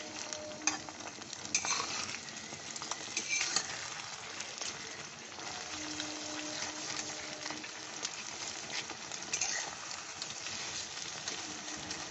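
Beaten egg seasoned with salt fries in white oil in a wok, giving a constant crackling sizzle close up with scattered pops and scraping stirs, steady throughout with no voices.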